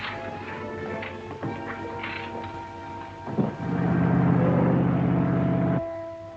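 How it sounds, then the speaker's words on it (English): Boat engine in an old 1943 Sherlock Holmes film, a low steady rumbling drone that rises after a few seconds of clatter and holds loud before cutting off near the end. "Stop the engine."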